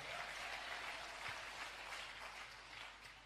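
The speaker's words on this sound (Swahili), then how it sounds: "Hebu mpigie Mungu makofi kwa sababu hiyo." A church congregation claps for God during a sermon, a soft, continuous patter of applause heard from a distance that fades slightly toward the end.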